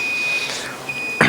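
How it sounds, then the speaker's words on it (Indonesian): A steady high electronic alarm tone beeps through a mosque study session, the pitch holding almost continuously before a brief louder burst near the end. "Alarm sudah bunyi."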